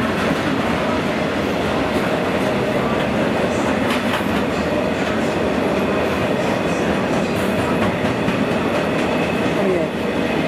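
A train arriving at Cardiff Central station rumbles steadily close by, wheels clattering on the rails with faint metallic squeals, a continuous loud roar throughout.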